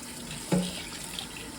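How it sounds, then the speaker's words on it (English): Tap water running in a kitchen sink while raw chicken is rinsed, a soft steady hiss with a brief splash partway through. "So we're gonna follow him and rinse the chicken."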